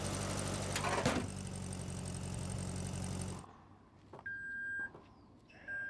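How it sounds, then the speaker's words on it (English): On an Ora Ballet Cat, a steady mechanical whir stops and then the closed tailgate gives a few short electronic beeps in clear, evenly spaced pulses, moderately loud against a quiet background. "Its tailgate beeps like a semi-truck when you close it."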